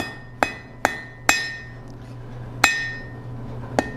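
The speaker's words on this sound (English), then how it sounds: "We're going to hammer." A blacksmith's hammer strikes a hot steel bar being drawn out for chain links, with five sharp, ringing metallic blows at uneven intervals against a steady forge hum.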